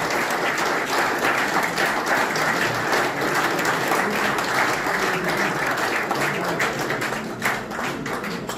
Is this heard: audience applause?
yes